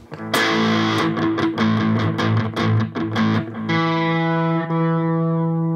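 Electric guitar played with distortion and a chorus effect, a quick run of strummed and picked notes followed by a sustained chord ringing out loudly and slowly decaying.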